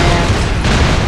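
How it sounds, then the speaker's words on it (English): Dense, continuous booming rumble of airstrike explosions in the video game Broforce fills the short moment, loud and close, like overlapping blasts with no pause between them. "So many explosions."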